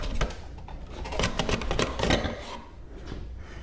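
Ducati slip-on muffler with a carbon and titanium finish being worked loose from its mount, giving close scraping, rattling and knocking bursts of metal and carbon shifting against the bracket, with no talking.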